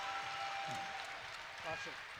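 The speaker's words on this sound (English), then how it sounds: "You see Byrd hyping up the crowd, and now they're getting loud" Loud crowd noise fills a college wrestling arena during a Big Ten dual between Penn State and Illinois, a sustained roar of cheering with a swell near the end, with some voices mixed in.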